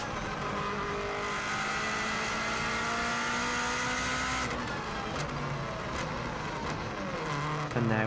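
Subaru WRX STI rally car engine revving hard on the Isle of Man TT course, a loud sustained roar with rising and falling pitch as it shifts down toward a tight hairpin, close and continuous with no talk.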